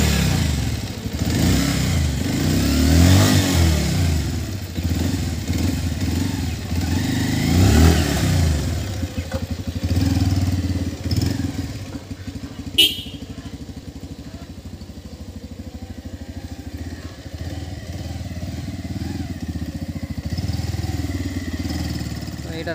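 A Bajaj Pulsar 150 motorcycle engine revs in repeated surges, rising and falling loudly up close, then settles into a steady, rougher idle with some clatter.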